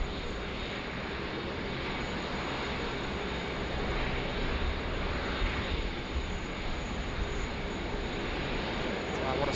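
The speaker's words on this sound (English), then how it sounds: "Got Fiji Airways, the 737 MAX, just creeping up behind as well." A Fiji Airways Boeing 737 MAX taxis at Sydney Airport during a thunderstorm, a steady low jet engine rumble at moderate distance blended with rain-like broadband noise, constant throughout.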